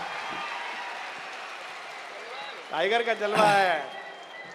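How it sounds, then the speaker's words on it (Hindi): Stadium crowd at a poetry event swells into applause and cheering after someone speaks, the clapping rising loudly near the end alongside his voice. "एक बार उठ जाए स्टेडियम जोरदार तालियों के साथ"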